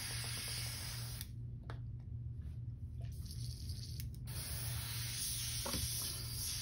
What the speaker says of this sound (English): Clean this out of my airbrush real quick.